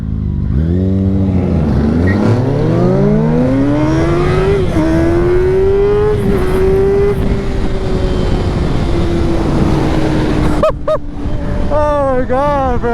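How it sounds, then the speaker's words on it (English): A Mercedes-AMG C63S revs and accelerates loudly and close by, its engine note climbing and holding through several gears, with another burst of revving near the end and someone talking over it. "This car is fast and loud."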